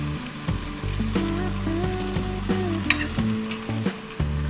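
Ginger paste, Kashmiri chili powder and turmeric are stirred in hot oil in a frying pan for Mughlai chicken changezi, giving a loud, steady sizzle broken by repeated scraping strokes of the spoon.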